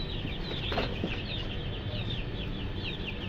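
Native chickens in a new coop cluck softly at night, several short calls repeating over a steady low background hum, with a brief flutter partway through.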